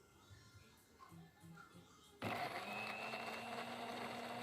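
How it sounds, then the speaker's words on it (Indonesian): A kitchen blender starts up loudly partway through and grinds tomato, garlic, shallot, ginger and turmeric into a paste, a steady high whirring drone after a quieter stretch of background sounds. "untuk yang kita blender pertama ini ada tomat, bawang putih, bawang merah, jahe, dan kunyit ya"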